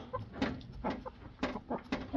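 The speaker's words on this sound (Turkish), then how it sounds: "Bayağı güzel bir horoz." A rooster makes soft, low clucks that repeat in short bursts, close by and fairly quiet, with a faint hum in the background.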